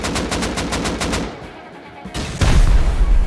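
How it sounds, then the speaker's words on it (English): Rockets fired at a base during a raid in the game Rust: rapid, evenly spaced bursts of loud launches, a short lull, then a heavy roaring blast close by, with no talk. "Rockets going back off, choosing to shoot between all 4 to maximise damage"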